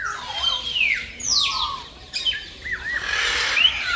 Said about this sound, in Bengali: আমি পুরো সেই মেন গেট থেকে শুনতে পাচ্ছি ম্যাকো পাখিগুলো ডাকছে।